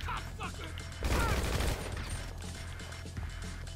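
Rapid gunfire in a Grand Theft Auto V Online casino mission shootout, with a dense burst of shots about a second in, then lighter scattered shots under steady game background noise.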